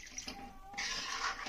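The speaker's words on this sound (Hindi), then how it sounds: "अब इसमें हम थोड़ा सा पानी डाल देंगे" Water poured into a pan of pea nimona gravy, a brief splashing pour that swells into a steady broadband gush over about a second, close by with no talk.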